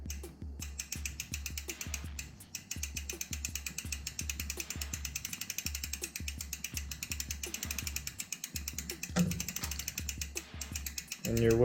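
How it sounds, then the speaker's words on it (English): A bicycle chain and freewheel click in a fast, even ratchet as the pedals are cranked backwards at a smooth pace during chain lubing, close and steady throughout with a brief handling noise near the end. "one hand on the pedals so I can crank backwards, and let's start"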